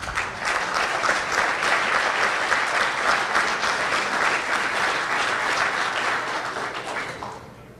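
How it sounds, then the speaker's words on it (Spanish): Audience at a medical conference in Puerto Vallarta applauding after a talk, a dense sustained wash of many hands clapping that holds steady for several seconds and then fades away near the end. "Muchas gracias por el aplauso."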